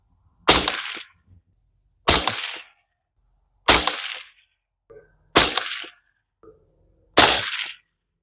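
Five loud, sharp shots from a Bear Creek Arsenal .22 Magnum rifle upper during an accuracy test, evenly spaced about a second and a half apart, each cracking alone with a short tail and no voices between them.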